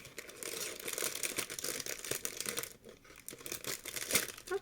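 An individually packaged roll of sticker paper being unwrapped, with continuous close crinkling and tearing of plastic wrapping, irregular rustling bursts, quiet and without talking.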